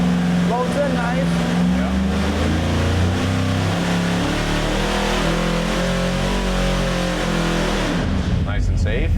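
A custom EFI 632ci big block Chevy on an engine dyno pulls from low to high rpm, its loud roar rising steadily in pitch throughout, then cutting off abruptly near the end.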